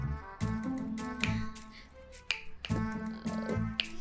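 A series of sharp, close finger snaps in an uneven rhythm, about six or seven crisp clicks over a soft musical background.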